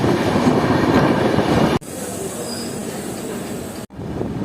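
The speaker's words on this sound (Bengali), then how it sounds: "রামপুরহাট উত্তরবঙ্গ এক্সপ্রেস ঢুকে গেল রামপুরহাট স্টেশনে 2 নম্বর প্ল্যাটফর্ম" The Uttarbanga Express rumbles into Rampurhat station on platform 2, a loud steady roar of wheels and carriages with a brief squeal, broken by two abrupt dropouts.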